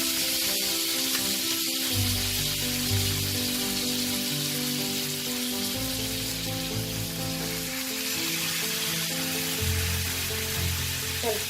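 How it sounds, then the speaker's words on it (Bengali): Chicken pieces for restaurant-style tandoori chicken sizzle steadily in butter on a small grill pan over high flame, a continuous close crackling hiss with occasional soft clinks, no talking. "এবার আমি একে একে এই চিকেন পিসটা আমি বসিয়ে দেবো।"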